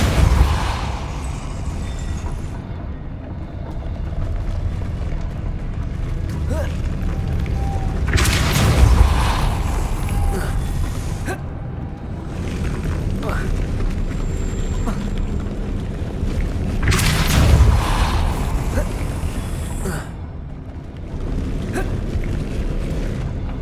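Heavy magical blasts from the Depulso force-push spell in Hogwarts Legacy boom out twice over a rumbling game ambience, each a loud, sudden burst that quickly fades.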